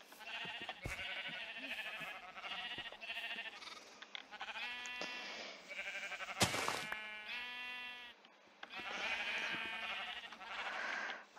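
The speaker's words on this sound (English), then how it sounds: "there's some sheep in the hole." Sheep in the video game Minecraft bleat repeatedly, several distinct wavering cries spaced out over a quiet background, fairly close and clear, with a sharp click between them.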